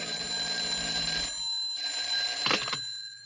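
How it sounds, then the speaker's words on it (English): An old-fashioned telephone bell rings in a radio drama, giving bright metallic trills that stop, start again after a short gap and end in a final clattery burst, as if the receiver is lifted. "I was just putting on my hat and coat when the phone rang."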